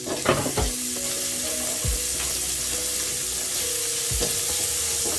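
Onions and ginger sautéing in a pan for butter chicken, a steady close sizzle broken by a few scraping stirs and clinks of a utensil.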